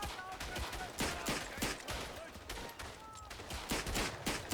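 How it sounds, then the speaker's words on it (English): Verdun first-world-war shooter gameplay with dense battlefield gunfire: rapid, irregular volleys of rifle and machine-gun shots, some close and sharp, others distant, crackling continuously throughout. "Trying to long-range fire with a 9mm pistol is probably not the smartest move I've ever done."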